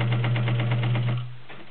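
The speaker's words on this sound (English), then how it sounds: "the Universal Model KZB All Metal Vintage Zigzag Sewing Machine" A vintage all-metal Universal Model KZB zigzag sewing machine stitching delicate fabric runs with a quick, even mechanical rhythm and a steady low hum, then the stitching stops and only a faint hum remains.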